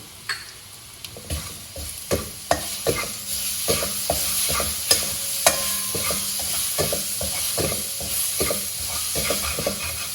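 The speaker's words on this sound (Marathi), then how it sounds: "मसाला छान खमंग आपला परतून झालेला आहे." Spice masala with salt sautés in hot oil, with a steady sizzle and a regular rhythm of spoon scrapes and stirring knocks in the pan, close and clear with no talking.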